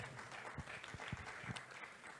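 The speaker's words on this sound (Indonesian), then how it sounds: "Tepuk tangan untuk Mas Anies teman-teman sekalian." Faint applause from an audience at a joint press conference sounds as a soft, steady patter of claps throughout, with a few sharper claps standing out.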